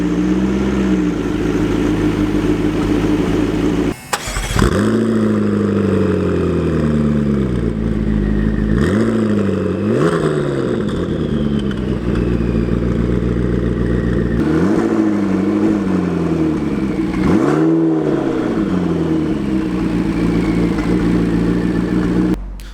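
A McLaren MP4-12C Spider's twin-turbo 3.8-litre V8 revs repeatedly, pitch climbing and dropping in several sharp bursts between a deep, rumbling idle, loud and close.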